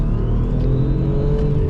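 An Audi S4 B5 cornering on the road gives a steady, loud engine drone with low rumble and a faint rising whine, heard from inside the car.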